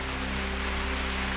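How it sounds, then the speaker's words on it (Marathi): Heavy cloudburst-like downpour pouring steadily through the night in a Maharashtra village area, a dense, continuous hiss of rain at an even level with no voices. "पारस परिसरात ढगफुटी सदृश्य पाऊस"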